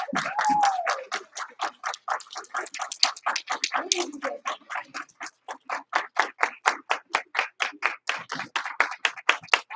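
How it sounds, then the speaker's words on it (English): A small group claps for a young martial arts student earning her white belt at a kids' class, the claps coming in a steady, evenly spaced rhythm that grows crisper and more regular toward the end, with no talk over them. "Let's give her a huge round of applause."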